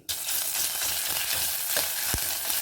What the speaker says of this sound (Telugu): ఆయిల్ అయితే హీట్ అయిపోయింది ఇందులో ఇప్పుడు కొద్దిగా ఆవాలు అలాగే కొంచెం జీలకర్ర ఫ్రెష్ అల్లం వెల్లుల్లి